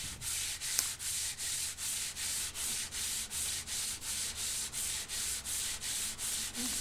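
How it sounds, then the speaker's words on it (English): Steady back-and-forth sanding on a wooden guitar neck blank, about two even strokes a second, a soft close rasp repeating without pause. "So more sanding."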